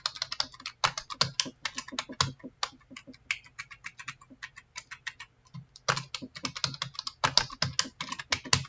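Password being typed on a computer keyboard during a Microsoft failover cluster installation: close, rapid bursts of clicking keystrokes with brief pauses, moderately loud and with no voices.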